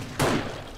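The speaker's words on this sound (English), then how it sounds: "Oh, one exploded." An exploding enemy in the game 7 Days to Die, one short muffled boom with a quick thudding onset that fades out over a fraction of a second.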